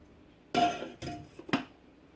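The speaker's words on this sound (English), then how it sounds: "I'm just going to give that a stir." A spoon knocks against a cooking pot of food in three quick clinking strikes while stirring, close and distinct over a quiet kitchen.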